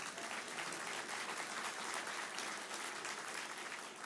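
Steady, dense applause from a large gala audience at an Indiana finance gathering, sustained and even for the full stretch with no voices standing out.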